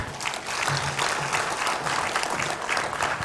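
Audience at a supplier conference applauds a keynote speaker, a dense, steady burst of clapping from a large room crowd, sustained evenly throughout without talk.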